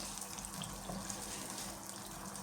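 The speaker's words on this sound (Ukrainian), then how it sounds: "Зараз сюди додамо чашечку води." A cup of water poured into a pan of tomato paste for lazy cabbage rolls, a steady splashing stream of liquid running close by for a couple of seconds without speech.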